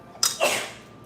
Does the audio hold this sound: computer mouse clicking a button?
no